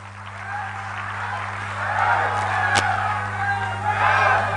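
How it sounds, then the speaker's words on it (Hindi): A crowd applauds at a youth gathering, steady clapping rising and swelling across the hall alongside a constant low electrical hum, with no voices standing out. "जोरदार तालियों से स्वागत करें।"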